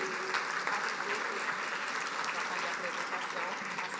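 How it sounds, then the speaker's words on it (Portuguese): A conference audience gives a steady round of applause, moderately quiet and continuous, with no voices rising above the clapping. "E eu quero agradecer e pedir uma salva de palmas para ele"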